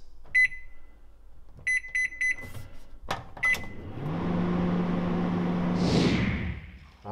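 A microwave oven heating satay chicken: a few keypad beeps, a clunk, then a steady close hum of the running oven with a rising whir near the end.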